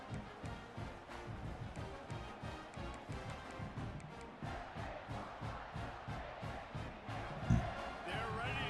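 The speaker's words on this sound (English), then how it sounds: "this crowd is buzzing after that last score" Stadium crowd noise from the EA College Football 26 video game, with fans of Washington and Maryland buzzing after a score: a steady, dense roar with rhythmic thumps and a brief loud swell near the end.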